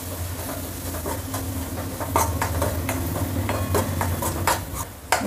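Agri masala, asafoetida, turmeric and Kashmiri red chilli powder sautéed in oil in a pan for a dried bombil and okra fish curry: steady sizzling with repeated sharp clinks and scrapes of stirring, close and fairly loud, no talk.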